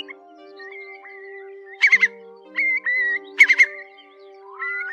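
Recorded calls of a Eurasian large curlew, clear rising whistles and bursts of trilling notes repeated several times over a low steady hum, close and fairly loud with no voices.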